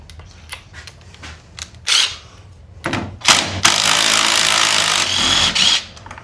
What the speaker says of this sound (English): you're going to want to get yourself a Ryobi impact driver unless you're one of them rich people that got Milwaukee's